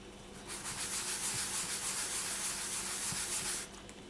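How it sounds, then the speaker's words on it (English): Polymer clay pendant being rubbed with sandpaper, a steady, close scratchy rasp of continuous strokes lasting about three seconds before stopping abruptly. "you give it a quick sand"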